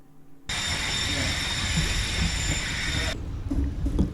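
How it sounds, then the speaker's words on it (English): A loud, sustained metallic squeal of train brakes rings out overhead on a railway bridge near Ipswich for several seconds, then cuts off as the train halts, leaving rumbling rail noise. "The squealing noise was the brakes, and it came to a complete halt right above us."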